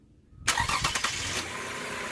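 A car engine cranks over on a weak battery in a few quick labored turns, then catches and settles into a steady idle, loud and close.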